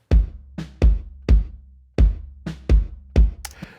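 Bass drum hits run through a nonlinear reverb, roughly seven deep thumps, each followed by an extended, gated-sounding tail rather than an abrupt stop, close and without voices.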